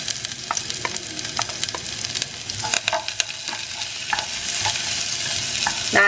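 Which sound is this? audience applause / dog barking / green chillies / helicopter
green chillies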